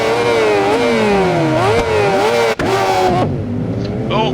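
Suzuki Hayabusa motorcycle engine in the racing game Ride 4, loud and steady with pitch rising and falling through revs and gear changes, a brief cut midway, then settling into a lower idle-like drone.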